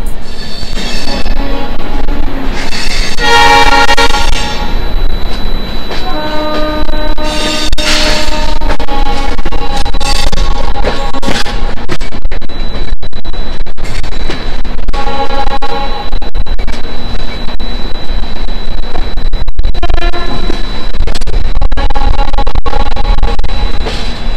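Gatimaan Express pulling out of Jhansi railway station in India, with loud repeated horn blasts and heavy rolling, clattering rail noise close by throughout.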